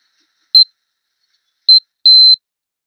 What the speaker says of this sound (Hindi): हमारा जो पीसीबी से वो हमारा बजर की साउंड आ रहा है